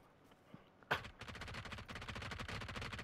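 Sustained automatic gunfire in the PUBG battle royale game begins with a sharp shot and then rattles on as a rapid, steady burst, fairly faint overall.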